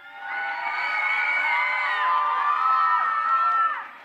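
A crowd at a concert inauguration cheers and whoops with rising, overlapping voices, a sustained swell of shouts that fades out at the end.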